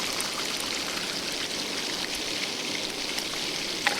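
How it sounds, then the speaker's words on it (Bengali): Water being poured into a pot of curry cooking at home on a rainy day makes a steady, hissing, splashing stream that is fairly loud and continuous throughout, with no talking. "এবারে দিয়ে দেবো জল"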